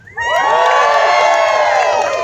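An audience at a lumberjack show erupts into loud cheering, with high whoops and children's shouts rising together after a brief quiet moment and holding steady, dense and close.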